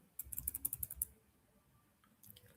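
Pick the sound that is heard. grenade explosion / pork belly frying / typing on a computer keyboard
typing on a computer keyboard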